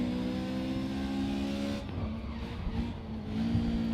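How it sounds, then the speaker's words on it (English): Race car engine in the Race Driver: Grid video game, made louder after losing its hood, holding a steady droning pitch, then briefly dropping and climbing again as it revs on. "My engine is now louder because I lost the hood."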